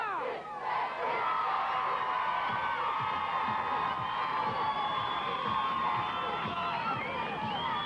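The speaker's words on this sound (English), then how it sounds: "Nice big cheer!" A big crowd at a 1985 UK BMX competition cheers loudly and steadily for several seconds, with whoops and high shouts. It swells quickly and holds without a break.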